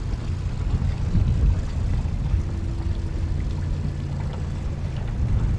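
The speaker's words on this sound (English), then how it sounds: "Got a Cobalt 300 horsepower Yamaha white outboard." A Cobalt bow rider ski boat with a white 300 horsepower Yamaha outboard runs on a bay, giving a continuous low rumbling drone with water wash, steady and moderately near throughout.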